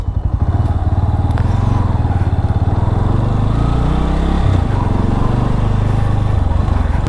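A motorcycle on a bike ride heading out: a loud, close engine chugging at idle, then revving up with a rising pitch as it pulls away and settles into a steady run.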